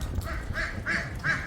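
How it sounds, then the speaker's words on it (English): Ducks quacking at the Peabody hotel in Memphis, three or four short nasal calls spaced about a third of a second apart, moderately close over a busy indoor background murmur. "the world famous Peabody Ducks"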